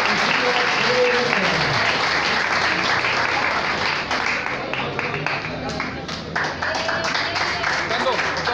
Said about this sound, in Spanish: Pero sí queremos el aplauso una vez más fuerte a nuestros hombres